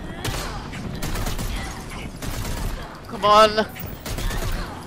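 Rapid bursts of gunfire in a tactical warfare video game, loud volleys repeating under an excited player's voice, with a brief tonal game sound partway through.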